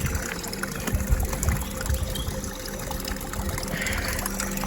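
Water trickles gently from above onto a potted plant during a daily watering, a soft, steady pour heard alongside low outdoor background noise.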